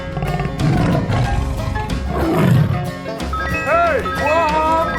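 A tiger roars in a 3D animal slide game, a loud growling burst amid busy game music and cartoonish voices, with a rising chirpy jingle toward the end.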